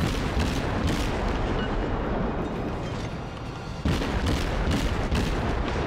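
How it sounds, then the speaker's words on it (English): Naval gunfire barrage in the warship combat game World of Warships: dense, continuous rolling booms of heavy guns, with a brief dip midway before another loud salvo resumes. "Just keeping up our barrage"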